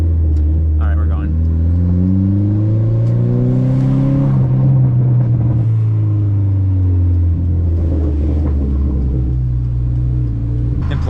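A Dodge SRT-4 pulls away in first gear, its engine rumbling loud and near as the revs climb and fall, with a voice talking over the drive.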